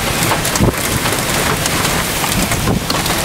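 A fierce storm drives heavy rain in a constant loud wash, with wind buffeting the microphone in short gusts; nobody speaks.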